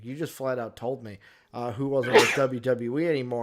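A single sharp sneeze bursts out midway through a man's speech, brief and close, with talking continuing right after it.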